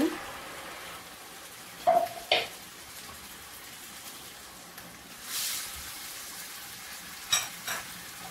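Blended tomato goes into a pan of fried onion and garlic for a meat and vendi dish, giving a soft, ongoing sizzle broken by a few sharp utensil clinks and a brief surge of frying hiss.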